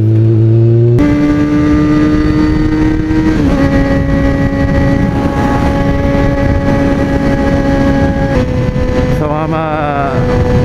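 A Kawasaki ZX6R sport motorcycle is being ridden, with loud, continuous engine drone and wind rush. The pitch steps up and down through gear changes, and a voice can be heard faintly under the noise.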